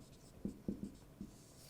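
Writing on a board while working through a management accounting formula: four or five short, dull taps and scratches in an uneven rhythm, quiet and close, with no voice over them.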